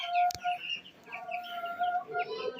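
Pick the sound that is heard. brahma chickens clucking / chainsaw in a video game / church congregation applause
brahma chickens clucking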